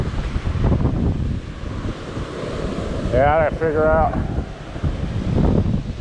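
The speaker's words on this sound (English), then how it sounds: "it's rougher now, the waves break bigger" Ocean waves breaking on a rough stretch of the St Croix coast in the US Virgin Islands, a steady broadband roar mixed with wind buffeting the microphone, with someone speaking briefly over it.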